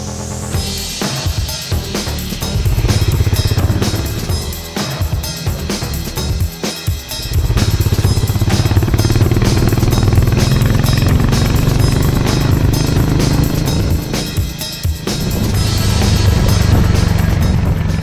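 Engine of a Harley-Davidson X440 or Triumph Speed 400 motorcycle on a test ride, a loud continuous rumbling drone that rises and dips with throttle changes, heard with rushing wind and no talk.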